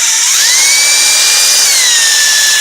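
A power drill polishes car rims, running loud and steady at mid-range speed with a high whine that rises, holds and then dips slightly, no talking over it.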